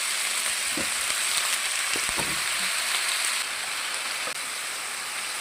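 Raw jackfruit pieces tipped into a hot oiled pan, setting off a steady, close sizzle with a few soft clatters as the chunks land, no voices.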